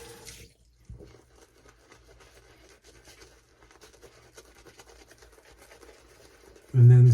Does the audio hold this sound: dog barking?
no